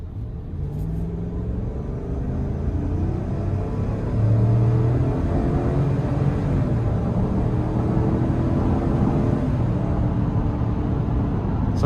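A 2026 Chevy Tahoe Premier with the 5.3-litre V8 accelerates hard, a steady low engine rumble heard from inside the cabin. It swells in loudness partway through and holds there.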